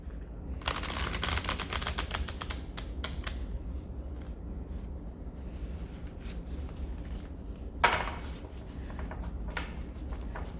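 Cards from a wisdom oracle deck by Carolyn Mess being shuffled in several bursts of crisp riffling and tapping, close and fairly loud, with quieter gaps between them.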